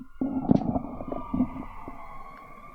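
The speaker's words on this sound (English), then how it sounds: "There's a siren outside right now." A siren drones steadily in the distance, its tone held and faint, with some low rumbling clatter nearby.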